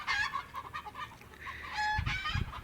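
Chickens kept at an old village house in Saudi Arabia cluck and squawk in agitated bursts close by, with overlapping calls from several birds and no talking.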